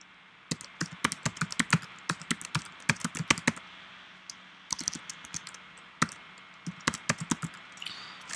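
Bursts of quick key clicks from a computer keyboard as a new password is typed, with short pauses between groups of keystrokes, close and crisp with no talking.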